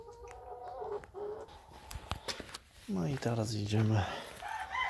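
Hens clucking and a rooster calling in a farmyard coop during morning feeding, close and busy, with a person talking briefly over the birds.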